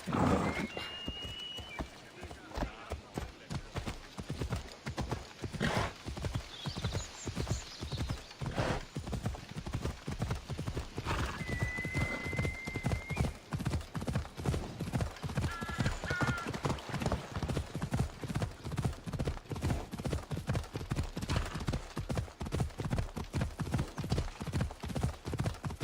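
Rhythmic hoofbeats of a galloping horse in Assassin's Creed Odyssey, a steady fast clip-clop running throughout at close range, with occasional short whinnies and game sound effects layered over it.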